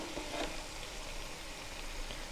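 Poha cutlets frying in a pan, a steady soft sizzle of oil holding evenly throughout at a low, close level.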